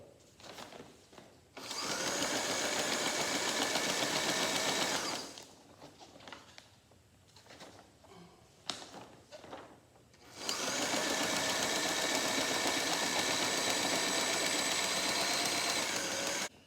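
A sewing machine stitching a heavy sailboat mainsail, running in two long loud bursts of rapid whirring with a quieter pause of handling noises between them.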